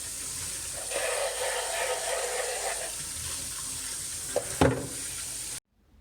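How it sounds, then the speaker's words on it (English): Foraged blackberries rinsed under a running kitchen tap: a steady hiss of flowing water close by, a couple of louder splashes near the end, then the tap stops abruptly, with no talking. "I'm going to keep rinsing them, just to make sure that they're nice and clean"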